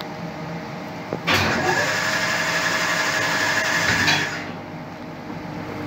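A laboratory bandsaw at an Antarctic research station starts up after being fixed, giving a steady machine whine with a sustained tone. It runs for about three seconds, then winds down and falls silent.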